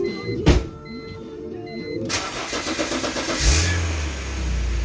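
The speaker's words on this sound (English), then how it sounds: "this is a 2004 BMW 330 with an i6" A 2004 BMW 330 with an inline-six cranks with a brief clatter, then catches and settles into a steady idle that swells slightly as the engine rises, near and clear.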